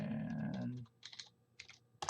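Quick bursts of keystrokes as a password is typed on a computer keyboard, soft and close, following a brief low murmur at the start.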